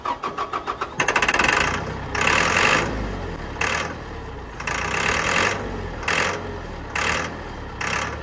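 A diesel tractor with sticky injectors cranking, starter whirring in rapid pulses before the engine catches and runs roughly, with repeated bursts of revving and rumbling idle between them, close and loud.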